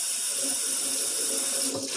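Hot water pours steadily from a kitchen sink tap in a loud, close, continuous rush, then briefly shifts and splashes as something passes under the stream near the end.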